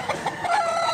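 Chickens at a poultry seller's in South Cebu, Mantalung, cluck and call in a brief close burst of a few quick notes.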